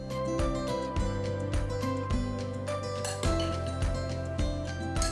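Spoon tapping and clinking against a bowl as pineapple salad with cilantro and salt is tossed and mixed, with repeated light clinks over steady background music.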